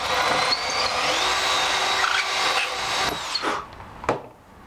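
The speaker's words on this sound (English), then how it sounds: "I'm gonna wiggle this screwdriver, make the hole a tiny bit bigger" Close, rough grinding and rubbing as a screwdriver is worked around inside a hole in wood to widen it, a continuous scraping that fades out with a few sharp knocks at the end.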